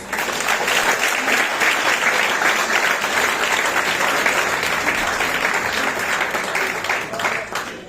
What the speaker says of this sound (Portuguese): Se ela é bem-vinda, receba com aplauso.